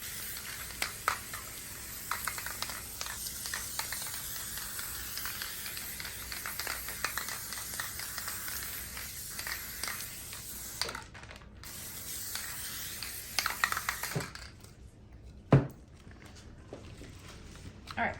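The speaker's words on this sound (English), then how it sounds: "you're going to spray it on the black plastic" Spray adhesive hisses onto black plastic in a steady, quiet spray lasting most of the stretch, with faint handling clicks and rustles near the end.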